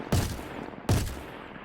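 Two sharp, heavy shots from a Behring FS9 light machine gun in Star Citizen, each a loud blast trailing into a brief echoing tail, fired alone in quick succession.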